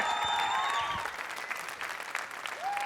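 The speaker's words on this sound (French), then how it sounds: "encore une tournée d'applaudissements" Steady applause from a crowd, with some whistling tones riding over it; the clapping thins slightly midway and then swells again at the end.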